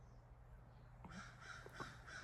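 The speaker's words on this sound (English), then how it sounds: "I'm outside, crows are going nuts." Crows cawing outdoors, several short harsh caws in a quick irregular series, moderately distant over low background hum.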